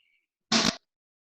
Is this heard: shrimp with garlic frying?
no